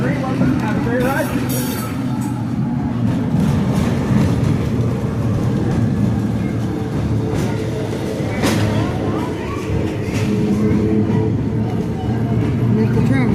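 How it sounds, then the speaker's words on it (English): A historic streetcar on the Como-Harriet line in Minneapolis rumbles along with a steady, loud rolling roar and occasional metallic rattles throughout. "This is historic streetcar."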